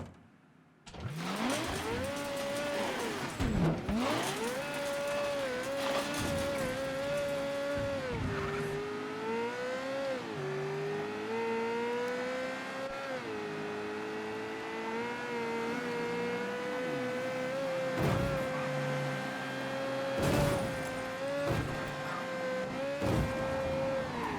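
Car engine in the video game Mafia III, a loud sustained drone rising and falling as it accelerates and shifts, with occasional sharp knocks and bumps over the drive.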